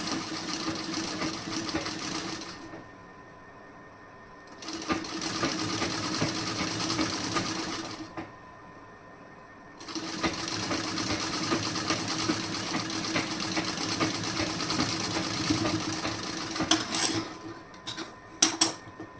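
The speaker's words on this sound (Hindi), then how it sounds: "इस तरीके से आप यहाँ पे कच्ची सिलाई लगाइए।" A sewing machine runs basting stitches on a blouse in three loud, steady bursts separated by short pauses, ending with a few sharp clicks.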